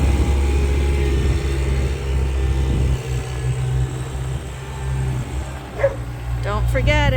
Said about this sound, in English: Max barks because everything's exciting when you're working on the farm.